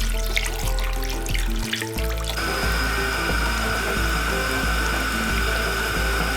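Water pours steadily into a braising pot of short ribs with honey and soy, a continuous loud rush that starts after some clanking of the pot and carries on without talk.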